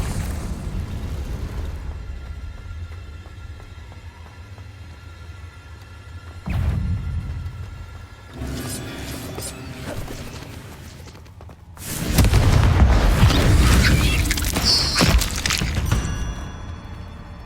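Confringo blasting-spell explosions in the Hogwarts Legacy video game, cast inside a cave, burst out as booming blasts. A short thump comes first, then a rumbling crackle, and finally a long, loud roaring explosion.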